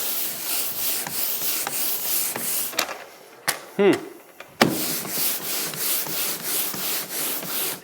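Sandpaper rubs over a wall coated in Behr paint, making steady, rhythmic, close scraping strokes. A short pause midway brings a few brief knocks and a voice before the sanding resumes.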